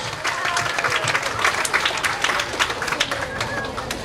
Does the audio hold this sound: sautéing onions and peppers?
no